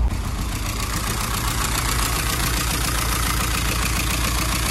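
A car engine idles with a vibration, giving a steady, loud, low rumble and knock that runs unbroken with no talk.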